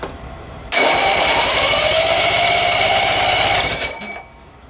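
Electric starter cranks a 1964 Evinrude 40hp outboard, a loud steady whirring grind that kicks in abruptly, runs for about three seconds with a rapid pulsing beat, then winds down.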